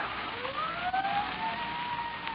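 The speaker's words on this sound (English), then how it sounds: "Sirens. Can't you hear them?" Emergency sirens in an old radio drama rise and fall in steady wailing sweeps at moderate distance, heard alone against a hissy background with no talk.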